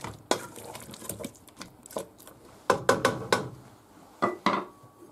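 Raw potato pieces for a rabbit and potato stew being cracked and snapped apart, giving a run of sharp, close, irregular cracks and knocks with short pauses between bursts, no voices.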